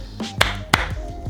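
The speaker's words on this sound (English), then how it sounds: "And a double jab should sound like this." Two crisp boxing double-jab impacts snap in quick succession, about a third of a second apart, close and distinct over a low steady hum.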